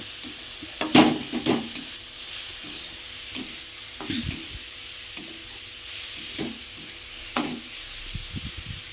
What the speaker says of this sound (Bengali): এবার এটাকে আমি খুব ভালো করে ভাজা করে নেব।